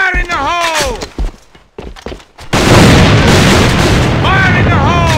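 A grenade blast in the AVA first-person shooter: a loud, sudden explosion erupts midway and its roar sustains to the end, preceded by shouting voices and scattered gunfire, with a voice returning on top near the end.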